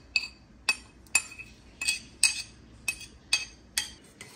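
Spoon clinking against a bowl while boiled salted dal filling with grated ginger is mixed for dal puri, about ten bright ringing taps at an uneven steady pace, close and clear.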